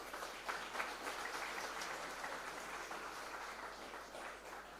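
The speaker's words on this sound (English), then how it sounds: "Give a big round of applause to the parents." Steady applause from a convocation audience at a PGDM graduation ceremony, honoring the graduates' parents; dense, even clapping that fills the hall for several seconds without letting up.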